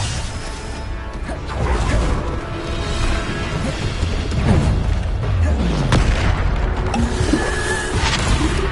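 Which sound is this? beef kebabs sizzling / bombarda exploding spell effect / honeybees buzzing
bombarda exploding spell effect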